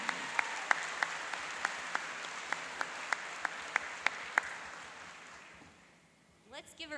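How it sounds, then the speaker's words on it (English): A convocation audience claps in sustained, close applause with distinct louder claps punctuating the wash, gradually fading away before a voice begins speaking at the end. "Please join me in welcoming JMAC board member Carrie Dawkins."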